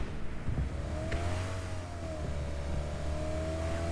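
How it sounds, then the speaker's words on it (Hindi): A car engine in the PUBG Mobile battle royale game, holding a steady mid-pitched drone that rises slightly and then levels off, loud and continuous for about four seconds with no talk over it. "गाड़ी गाड़ी गाड़ी"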